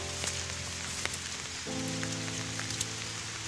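Rain falling in the Andaman jungle, a steady hiss of drops on leaves and surfaces lasting throughout, with a low tonal hum running underneath and no talk.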